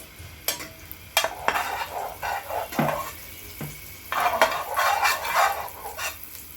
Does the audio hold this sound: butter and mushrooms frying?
yes